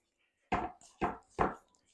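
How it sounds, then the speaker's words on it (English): A big fork chops butter into flour in a mixing bowl for chocolate chip biscuits, giving three distinct dull scraping thuds in steady rhythm, close and moderately loud with no talk. "Just use a big fork, get some flour over your butter, and then just go to chopping it in."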